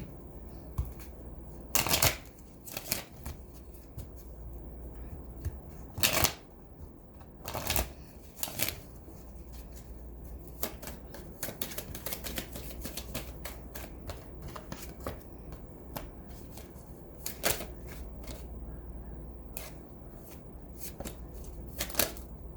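Tarot cards are shuffled again and again: crisp, sharp riffling bursts recur over about twenty seconds, with soft card handling in between, close and without talk.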